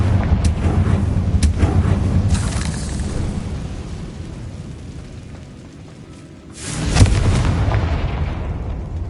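Confringo spell explosion in the video game Hogwarts Legacy: a loud booming blast with a rumbling tail, followed later by a second sharp burst and crackling debris, with no talking.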